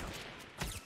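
Gunfire in the Fortnite video game: a short, dense burst of distant-sounding shots with a rough, continuous crackle and a slightly louder hit near the end, no talk over it.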